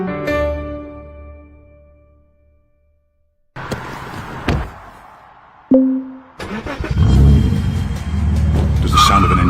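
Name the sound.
car engine revving and tires skidding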